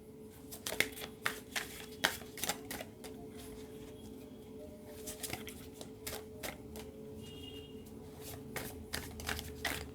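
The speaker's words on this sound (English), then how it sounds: "So we are shuffling live." Tarot cards being shuffled in quick bursts of riffling clicks and slaps, close up, with a steady low hum underneath and no talking.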